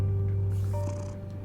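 A cat in Batman: The Telltale Series purrs with a low steady rumble, close and continuous, under a constant background hum.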